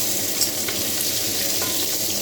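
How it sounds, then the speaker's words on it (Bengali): Morola fish frying in a pan, a dense, steady sizzle filling the whole moment at close range with no voices over it. "এখানে দেখুন আমাদের দুপুরে রান্না হচ্ছে ডালের সাথে মোরলা মাছ ভাজা।"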